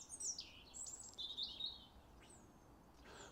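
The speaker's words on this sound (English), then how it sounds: "Noisy birds we have round here." Birds chirp outdoors in a series of quick, high tweets, faint and somewhat distant, over a quiet background.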